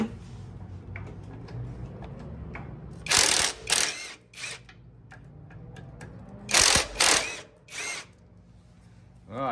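Ratchet on 6 mm hex socket bits working the fuel tank bolts of a 1994 Yamaha Virago XV535 motorcycle, heard as two loud bursts of rapid clicking over quieter mechanical handling, close up with no talk.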